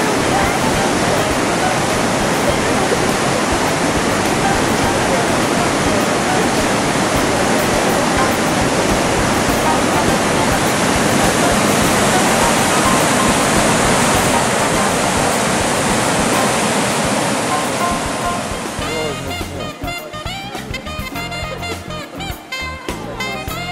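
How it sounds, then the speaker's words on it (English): Waterfall in Yosemite heard from a hiking trail as a loud, steady broadband roar of rushing water that continues for most of the stretch, then drops away sharply near the end. "And there's a waterfall up there."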